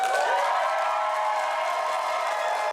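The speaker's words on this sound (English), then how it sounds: "Hundreds of residents cheering after Google dropped the proposal" A large crowd cheers and applauds continuously, a dense, loud wash of clapping and voices that cuts off abruptly at the end.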